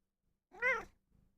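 A cat gives a single clear meow, short and close, in an otherwise quiet room.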